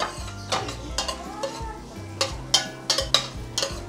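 Onion and ginger sautéing in a pan for a Filipino dish, with a steady sizzle under repeated close scraping and clinking of a utensil stirring against the pan.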